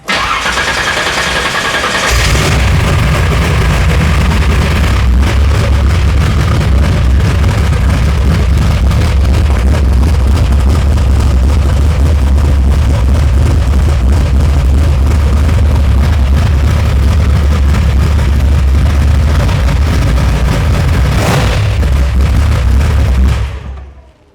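A car engine cranks and fires up, then roars loudly with deep rumbling revs that rise and fall for a long stretch before cutting off.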